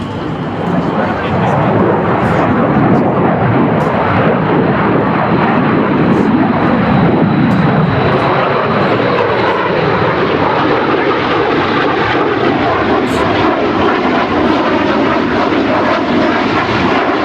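A B-2 Spirit stealth bomber, a jet-powered flying wing, roars overhead at the Wings Over Whiteman air show, a loud sustained jet rumble that fills the whole stretch while a voice talks over it.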